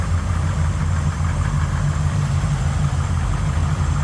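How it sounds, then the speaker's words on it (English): A small block Chevy V8 in a 1981 GMC C1500 street rod, fitted with headers, an Edelbrock intake, Holley 750 4-barrel carburetor and MSD ignition, idles steadily and loudly with a deep, continuous rumble close by. "There it is, small block Chevy power."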